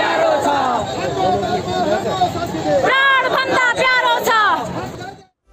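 A large street march in Nepal, some marchers carrying ceremonial kalash pots while demanding a Hindu nation, produces a loud, dense roar of crowd voices and chanting that runs steadily before cutting off abruptly near the end.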